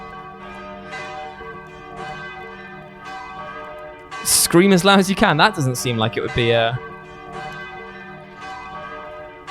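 A bell rings out in repeated, evenly spaced strokes during a live playthrough of the Deathtrap Dungeon gamebook, holding steady under a voice, with a loud burst of shouting in the middle.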